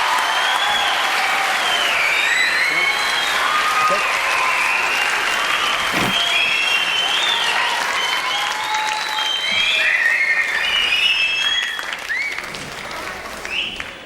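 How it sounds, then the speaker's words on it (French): A French TV studio audience applauds loudly and continuously, a dense wash of clapping with scattered cheers and whoops, fading slightly at the end, before a performance. "je vous demande d'applaudir déjà à l'avant"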